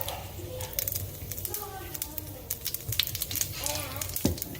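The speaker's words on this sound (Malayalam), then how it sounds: "നല്ല ചൂടായ എണ്ണ ആയതുകൊണ്ട് കടുകെല്ലാം പൊട്ടി തുടങ്ങിയിട്ടുണ്ട്." Rapid crackling and popping of mustard seeds spattering in hot oil runs steadily throughout, with faint background voices.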